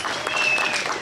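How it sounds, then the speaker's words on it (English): Crowd applause at a Walk to End Alzheimer's charity event, a short burst of dense clapping with a faint whistle-like tone above it. "Give them a round of applause."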